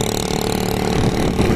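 A modified motorbike engine running up close, a loud, continuous rough idle with a steady low throb and no other sounds.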